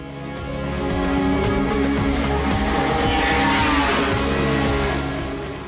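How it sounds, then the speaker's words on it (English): Vintage racing cars roar past at speed during a historic motor race, engine noise swelling to a loud peak with tire squeal before fading away. "Vintage motor cars spanning 50 years of racing history will compete in 7 different categories."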